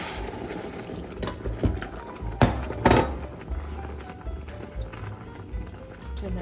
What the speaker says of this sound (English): And now I'm going to add the hot milk and keep stirring it.